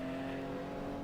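A Nissan GT-R GT3 racing car engine in the Assetto Corsa video game, on the Nordschleife, holds a steady, buzzing drone for a brief moment, with no talking.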